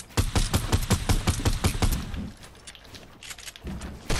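Gunfire in the Fortnite video game: a rapid, even string of about nine close, loud shots over two seconds, then a quieter lull with scattered impacts and one more burst at the end, with no talking.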